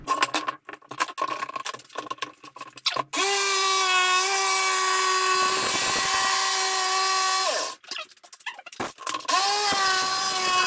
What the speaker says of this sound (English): use the handheld belt sander